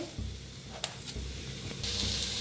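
Onion frying in a pan, a soft steady sizzle with a few faint clinks and scrapes and a brighter hiss rising toward the end.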